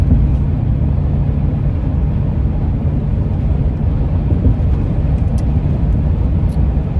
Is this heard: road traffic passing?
yes